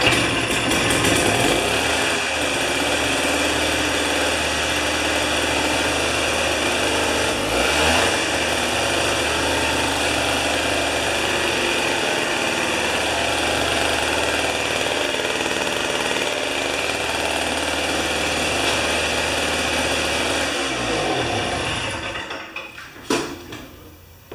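A two-stroke snow thrower scraper engine runs steadily and loud for about twenty seconds with a raspy, buzzing drone, then cuts off near the end.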